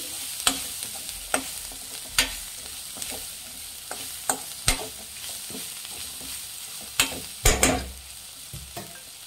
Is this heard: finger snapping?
no